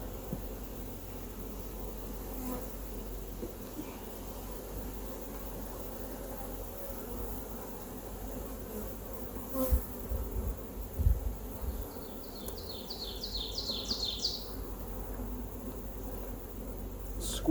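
Honeybees buzz steadily around a hive during a queen release, a soft continuous hum with a brief nearer whine of a passing bee near the end.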